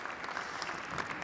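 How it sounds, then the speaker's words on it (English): Dense audience applause at an awards ceremony, a continuous wash of many hands clapping at moderate distance with no voices on top. "Des applaudissements."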